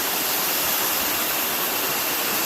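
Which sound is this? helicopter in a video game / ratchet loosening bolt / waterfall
waterfall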